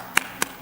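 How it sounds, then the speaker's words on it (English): Committee members at a historic preservation meeting give a brief, sparse clap, only two or three distinct hand claps spaced apart in a quiet room. "I feel like we should clap."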